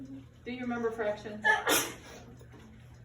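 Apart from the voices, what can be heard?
sneeze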